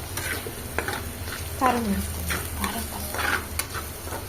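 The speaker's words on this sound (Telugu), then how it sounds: "అల్లం వెల్లుల్లి పేస్ట్ ఇంకా పచ్చి వాసన పోయే వరకు మనం ఇలా బాగా వేయించుకుందాము" Ginger garlic paste fries in a pan while a spoon stirs it, a close sizzle with scraping strokes and clicks, and a brief spoken word.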